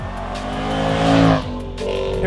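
A 2020 Jaguar F-Pace SVR engine accelerates hard, rising to a loud roaring peak before easing off, with a deep, steady rumble underneath.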